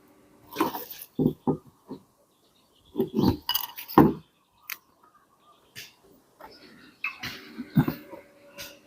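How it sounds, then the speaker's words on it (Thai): Plastic back cover of an Oppo F5 phone being pried open: a run of sharp clicks, clinks and small snaps in short bursts with pauses between, close and fairly quiet. "เดี๋ยวเปิดฝาหลังก่อน"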